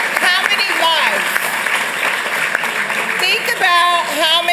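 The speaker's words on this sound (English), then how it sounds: "Give her a round of applause." Audience applause at a Santa Ana city council meeting, a brief burst of clapping under and around a speaker's voice at the podium, fairly close and moderately loud.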